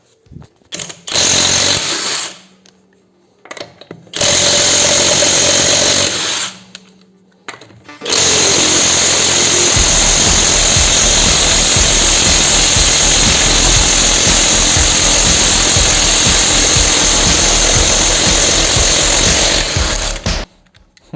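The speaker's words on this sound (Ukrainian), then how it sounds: "Беремо головку, зриваємо колеса." A Dnipro-M DTW 202 BC Ultra cordless impact wrench hammers loose long-unturned wheel nuts on a jacked-up car in a service garage, with two short loud bursts followed by one long, continuous rattling run close to the mic.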